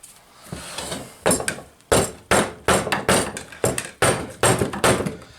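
A rapid series of heavy hammer blows striking a tire, about a dozen dull rubbery thuds in a fairly steady rhythm, loud and close.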